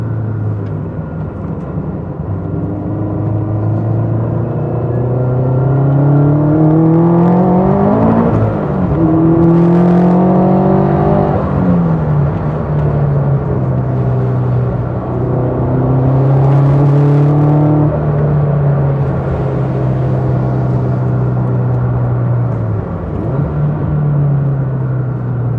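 Turbocharged Toyota 86 making about 350 hp, pulling hard on a race track during a time attack shakedown, engine note climbing through the revs, dipping at each gear change, then rising again, loud and continuous throughout.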